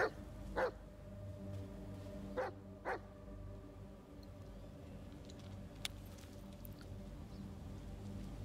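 A dog barks a few times in a dark forest in the Blair Witch horror video game, three short sharp barks early on over a steady low game ambience, then quiet.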